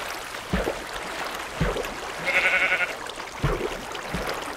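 Sheep bleat in the video game Minecraft, a short bleat standing out over a steady background hiss with soft thumps, fairly quiet.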